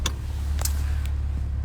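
Car cruising through a residential neighborhood in Olde Wythe, Hampton, Virginia, steady low engine and road hum from inside the cabin with a few faint clicks and rattles.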